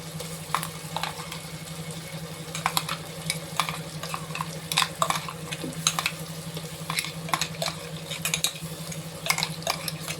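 Ginger-garlic paste and tomatoes are stirred in a pressure cooker for vegetable biryani, with a steady sizzle underneath and a spoon scraping the pot in repeated clattering strokes, close and moderately loud, with no one talking.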